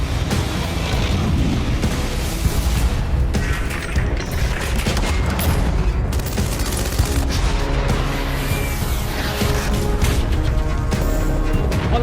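Dense, continuous rumbling booms and blasts of artillery guns firing in rapid succession at a frontline base, loud and chaotic throughout.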